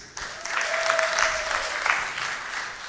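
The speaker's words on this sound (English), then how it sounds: "Big round of applause for love, please." Applause from an audience at a youth mental health summit keynote, a steady wash of many hands clapping for about three seconds, fairly far off and uniform, with a brief whistle-like tone partway through.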